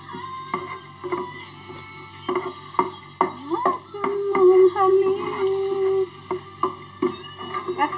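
Onions frying in cooking oil in a pan for a shrimp and squid stir fry with vegetables, with a steady sizzle broken by repeated stirring and utensil clatter, close up.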